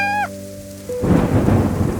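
Steady rain falls with a rumble of thunder that rolls in after a brief musical tone fades, filling the rest of the clip with a broad, noisy wash.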